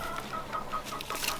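Chickens clucking softly in a coop, a string of short repeated clucks and murmurs, fairly close, with no talk over them.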